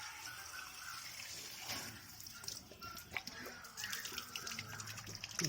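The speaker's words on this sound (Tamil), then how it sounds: "ஒரு ஓஸில் வந்து தண்ணி நம்ம வச்சுக்கிட்டு அது மேலே உள்ள டாப் ஓட்டையில் விட்டோன்னா டஸ்ட்டு எதுவும் இருந்துச்சுன்னா கீழே உள்ள ஓட்டை வழியாக வந்துடும்" A hose pours water into the top opening of a Maruti 800 engine radiator to flush it, giving a steady close rushing and splashing sound with scattered drips and knocks.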